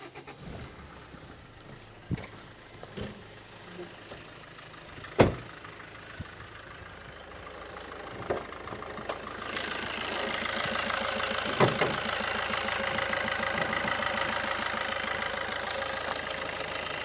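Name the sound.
Maruti Ciaz diesel car engine idling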